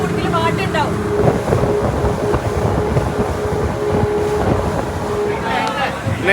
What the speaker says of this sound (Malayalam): കുറച്ചധികം സമയം നല്ല സ്പീഡിൽ ബോട്ട് ഓടിയതിന് ശേഷം നമ്മൾ വേറൊരു സ്റ്റോപ്പിലെത്തി